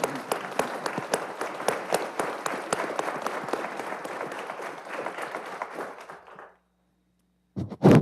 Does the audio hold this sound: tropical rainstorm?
no